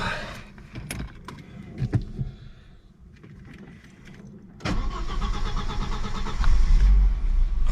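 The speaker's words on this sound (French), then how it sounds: "Oh, un 5 cylindres, ça démarre toujours, c'est incroyable." A five-cylinder car engine cranks and catches after a few clanks and rattles, then settles into a loud, steady but slightly unstable rough idle that grows stronger toward the end.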